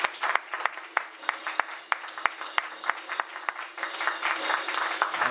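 A church congregation at a deliverance and healing seminar applauds with steady, moderately loud clapping that is sharply accented throughout and gets denser toward the end.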